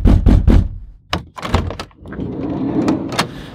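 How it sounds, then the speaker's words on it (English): A van door in an abandoned factory opens with a few heavy thunks and clunks of the latch and sliding panel, then a steady low rumble carries on afterward. "Well, he knows we're here, so open the door."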